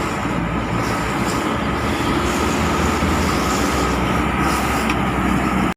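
An LRT light rail train in Manila rumbles past steadily and loudly, a continuous heavy rolling roar that cuts off abruptly at the end.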